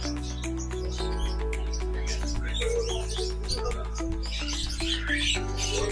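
Caged birds chirp and tweet in dense overlapping calls at a bird market in Kuwait, set against a steady low hum and faint background voices.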